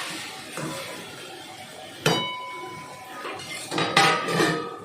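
A metal pot lid and pan clank sharply several times during cooking of an eggplant and potato curry in a home kitchen, with bright ringing hits about two and four seconds in against a quiet background.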